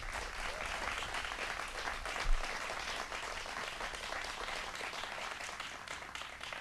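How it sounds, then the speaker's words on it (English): A crowd at a property tax cap bill signing in Westchester County gives sustained applause for Assembly members and senators, a dense steady clapping that holds evenly throughout with one brief louder thump midway. "Let's give them a round of applause."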